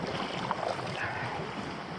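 Steady wind of about 20 to 25 mph blows around a kayak at sea, a continuous broadband rush mixed with water sounds and microphone buffeting, with no talk.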